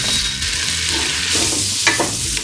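Sweet potato, onions and precooked chopped sausage sizzle steadily in a hot pan, a continuous loud frying hiss with occasional stirring scrapes and clinks, no talking.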